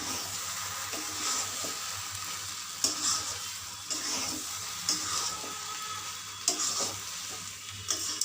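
Tomatoes and sugar are stirred in a sizzling frying pan, a soft continuous fry broken by repeated scraping strokes of a spoon against the pan, close and fairly quiet.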